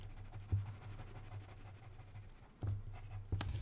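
Coloured pencils scratch across paper while colouring a spinning-top design, a soft continuous scraping with a few sharper strokes, under a low steady hum and no talking.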